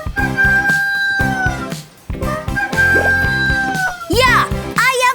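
A rooster crows twice, long sustained calls ringing over light background music, with a voice and a brief squeaky cry breaking in toward the end.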